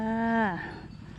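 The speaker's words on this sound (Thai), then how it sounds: "มาชมแพะค่ะ" A single goat on a farm lets out one loud bleat that wavers and bends downward before trailing off into quiet outdoor ambience.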